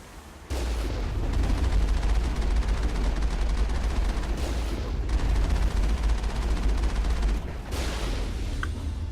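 Cannon fire in the video game Mass Effect: heavy sustained booming blasts with a deep rumbling roar that cuts off briefly near the middle and again near the end, loud and close, with no speech.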